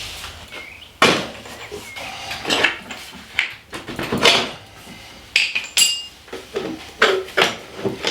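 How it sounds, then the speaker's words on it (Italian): Metal tool work on the chain tensioner part of an electric supermoto motorcycle, a TINBOT ES1S-PRO, being unscrewed: a run of close, sharp metallic clanks and knocks at an irregular rhythm, with no speech. "poi andiamo anche a svitare questo pezzo qua, che è quello che tiene tirata la catena"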